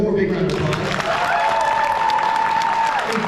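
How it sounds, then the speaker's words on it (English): An audience at a school promotion event claps in a dense round of applause. A drawn-out whistle-like tone rises over the crowd noise midway, then the clapping continues at moderate volume. "So let's give them one more big round of applause."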